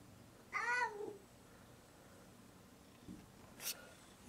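A cat gives one clear rising-and-falling meow close by, followed by faint soft rustles and a small tap in an otherwise quiet indoor setting.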